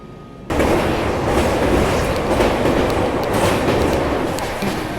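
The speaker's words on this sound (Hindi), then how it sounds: "यहाँ तक तो ट्रेन ऐसे भाग रही थी मानो बिलासपुर बिफोर टाइम पहुँचने वाले हों" A New Delhi–Bilaspur Rajdhani Express runs fast on rails, making a steady, loud, dense rumble and rattle of train wheels heard from onboard after a brief quieter start, with no talk.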